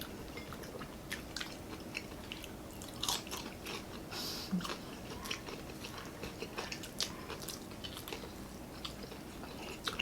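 Close, crisp bites and crunchy chewing of a garlic-coated crispy pig head, repeated sharp crackles over a quiet background in a steady eating rhythm.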